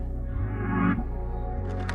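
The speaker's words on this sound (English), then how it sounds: "you can hear that it's like a cassette tape playing again" Beat in a moody R&B style with a nostalgic cassette tape playback texture, warm layered chords over steady low bass pulses, with a brief swell near the middle and bright accents toward the end.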